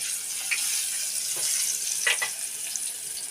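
Tomatoes and chillies hit a hot pan with a close, steady hiss of sizzling and a few brief scraping stirs, heard alone without talk.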